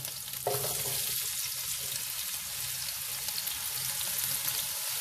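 Garlic and onion frying with whole coriander in a pan, a soft, even crackling sizzle with light stirring scrapes throughout, steady and close without speech.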